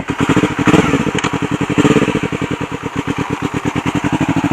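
A big bike motorcycle engine pulling away with a learner rider, loud and close, its pulsing exhaust beat rising briefly then settling into a steady rhythmic throb.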